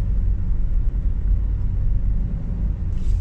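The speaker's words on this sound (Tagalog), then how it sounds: "Nabot tayo ng traffic mga kamamay." Steady low road-traffic rumble from a motorcycle stopped in traffic on the road to Upper Bicotan, continuous and fairly loud, with engine drone filling the lows and a brief brighter hiss near the end.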